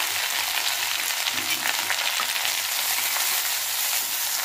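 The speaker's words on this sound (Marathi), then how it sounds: "आता याच्यामध्ये आपल्याला जिरी मोहरी टाकून घ्यायचे. जिरे आणि मोहरी टाकूया." Cumin and mustard seeds sizzling in hot oil for a vegetable dish: a steady, close, hissing fry with faint crackles and pops throughout, no voices.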